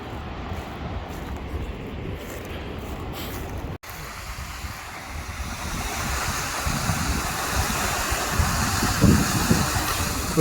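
Ocean waves break and wash along the Scottish coast near Montrose and Gourdon on a day with little wind, a continuous loud roar of surf that swells stronger toward the end.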